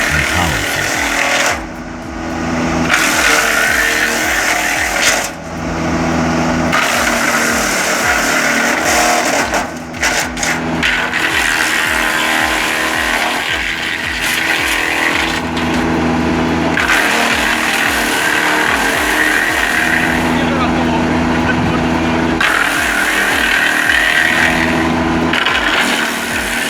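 Large wood chipper with a green discharge chute shredding waste wood into mulch: a loud, steady engine roar with grinding and crunching surges as branches are fed in, nearly continuous and close, with speech faintly mixed in.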